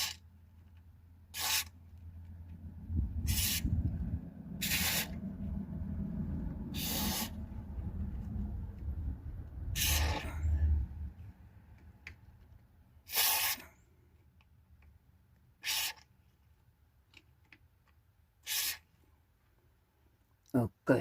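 Spray squirts into a Peugeot 505 door in a series of short, sharp hissing bursts spaced a few seconds apart, with low rumbling handling noise between them early on.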